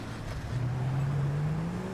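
A police car spawned on a FiveM GTA V server idles and then revs with a steady rising engine drone, close and continuous, with no talking over it.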